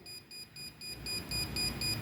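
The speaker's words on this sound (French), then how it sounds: "la vitesse du bip et du témoin lumineux va de plus en plus vite" A Parkside voltage tester pressed against a live cable beeps in quick, evenly spaced high-pitched pulses, faint and close, with a low rumble underneath.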